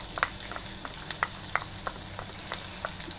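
Onion and green chilli sautéing in hot sunflower oil in a pan: a steady close sizzle with a series of sharp spatula taps and scrapes at irregular intervals, no voices.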